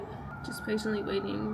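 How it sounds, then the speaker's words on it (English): Emergency vehicle sirens wail outside, a faint rising and falling tone in the background while someone talks over it. "Sorry for the sirens going on."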